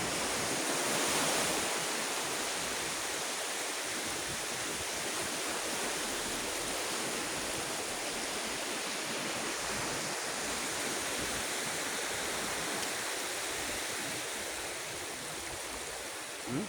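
Continuous roar of ocean surf washing onto a beach, steady and broad, with no voices and a constant rushing texture throughout.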